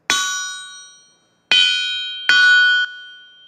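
An anvil wrapped in about 80 pounds of chain on its stand is struck three times. Each hit gives a bright metallic clang with a short ringing tail, and the final strike is cut off abruptly.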